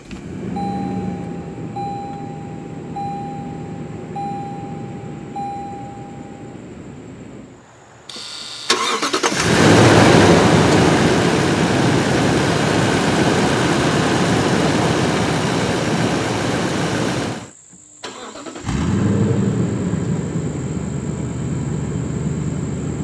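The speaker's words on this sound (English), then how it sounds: "All you have to do to start, just put your foot on the brake and hit the button to go." A 2016–2017 Lexus LX570 starts with push-button ignition: a starter whir leads into a loud, steady idle that cuts off and then fires up again near the end, close and with no talk.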